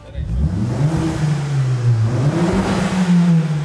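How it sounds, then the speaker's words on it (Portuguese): A modified Volkswagen Golf GTI with a turbo is revved up close, its engine rising and falling through a couple of strong pulls with a whirring, steady roar that fills the short stretch. "O barulho do turbo, rapaziada, tá sensacional."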